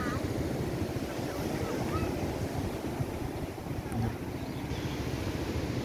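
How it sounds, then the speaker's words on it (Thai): Steady roar of sea waves washing onto the beach at Laem Sing, Chanthaburi, Thailand, continuous and broadband with wind buffeting the microphone. "ฟังเสียงคลื่น"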